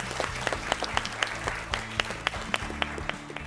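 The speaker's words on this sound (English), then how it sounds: "Ladies and gentlemen, please clap for them." Applause from a quiz competition audience for a team at a national final, many hands clapping in a steady patter with a few louder individual claps standing out, no speech.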